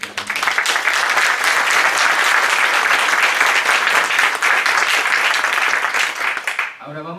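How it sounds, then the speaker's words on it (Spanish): Seminar audience breaking into loud, dense applause that holds steady for about six seconds before fading, with a voice returning right at the end. "Yo les pido por favor un aplauso"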